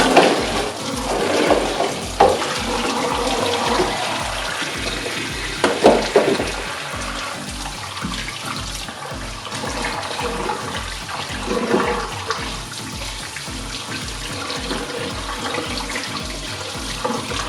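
Water runs steadily from a tap into a sink as cheesemaking equipment is rinsed, a continuous close splashing hiss with brief clatters of handled items and no talking.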